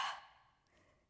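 A single soft exhale from a Pilates exercise, a brief breathy rush at the start that fades quickly into quiet.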